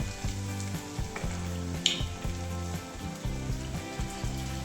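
Chicken pieces fry in hot oil over low gas, crackling with a continuous close sizzle and a brief sharp spatter near the middle, heard alone without any voices.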